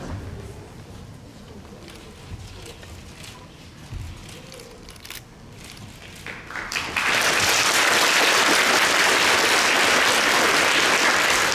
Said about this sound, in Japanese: 皆さん、大きな拍手でお見送りします。